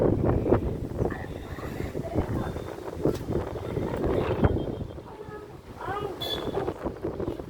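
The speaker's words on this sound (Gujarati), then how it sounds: "આટલો પવન ઉપડી ગયો છે અને વરસાદ લગભગ હવે આવવાની તૈયારી જ છે" Strong gusty wind buffets the microphone outdoors ahead of approaching rain, roaring in uneven surges throughout, with people talking over it.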